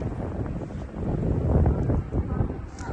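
Wind gusting across the top floor of a studio flat in Mathura, a steady broadband rush that swells through the middle and eases off, loud and close against the microphone with no talking.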